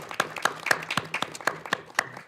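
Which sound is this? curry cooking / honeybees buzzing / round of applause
round of applause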